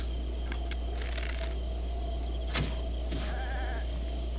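A goat bleats in Zelda: Breath of the Wild, a couple of short wavering calls over a constant low game hum and faint insect-like chirps, with no talk.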